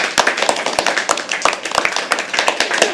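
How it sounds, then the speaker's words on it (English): An audience at a live poetry open mic at The Habitat claps with quick, close, uneven hand claps that continue for a few seconds. "Keep clapping till he comes on stage"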